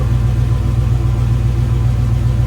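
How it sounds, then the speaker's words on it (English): A car engine idles lean with a Holley system, a steady, loud, low rumble with a slight uneven pulse throughout and no other sounds. "it's idling lean right now"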